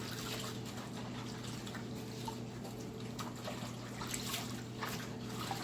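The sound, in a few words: washing hands in dishwater with bleach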